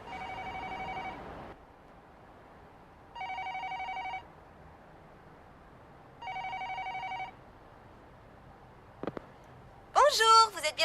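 A telephone rings three times in even, spaced bursts with silence between, followed by a short beep and a burst of sound as an answering machine picks up.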